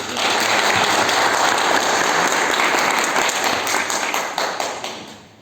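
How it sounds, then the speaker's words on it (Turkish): A big round of applause from delegates at a sports clubs association congress in Uşak, loud dense clapping that holds steady and then thins out and fades toward the end. "Ve de kocaman bir alkış istiyorum."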